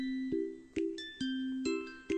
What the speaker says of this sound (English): That was the sound of blood spurting from Rina's nose.